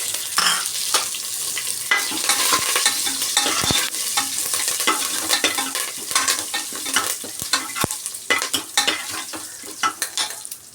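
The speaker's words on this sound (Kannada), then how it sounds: "ಇವಾಗ ಕರಿಬೇವಿನ ಸೊಪ್ಪು ಹಾಕ್ತಾಯಿದ್ದೀನಿ" Curry leaves crackle and sizzle in hot oil in a pan, stirred with a steady scraping rhythm and sharp popping bursts throughout, close and fairly loud with no talking.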